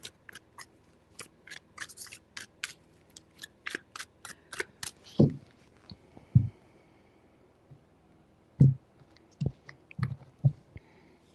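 A deck of tarot cards is shuffled close up in a quiet room, with a rapid run of crisp riffling flicks followed by scattered soft taps and slides as the cards are gathered.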